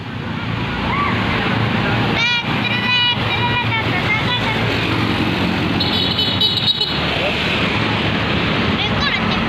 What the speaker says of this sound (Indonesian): Lagi melintas bus pariwisata.